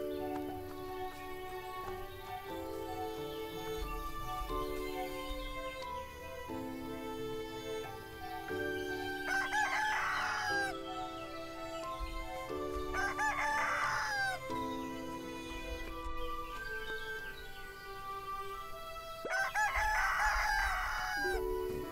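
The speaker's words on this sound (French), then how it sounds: "Pour faire descendre le poulet." A rooster crows repeatedly in the farming game Everdream Valley, several drawn-out cock-a-doodle-doos rising over a steady musical background with occasional clucking.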